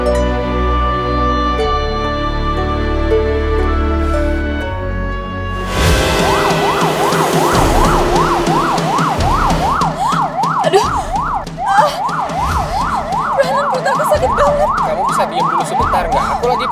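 An ambulance siren wails loudly and steadily in a rapid rising-and-falling pattern, cutting in suddenly after a stretch of dramatic music and continuing under rumbling vehicle noise.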